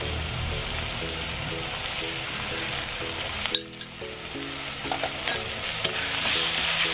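Garlic sizzles steadily in a hot pan while a utensil stirs and scrapes it in bursts, with a short clatter partway through and an ongoing dense frying hiss.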